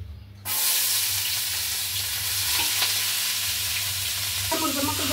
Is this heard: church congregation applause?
no